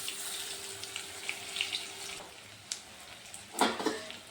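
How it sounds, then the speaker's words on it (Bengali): Cauliflower dhokla pieces fry in oil over a medium flame, a faint steady sizzle broken by a few soft crackles and one sharper burst near the end. "এইভাবে উলট পালট করে আমি সবগুলো ভেজে নেব"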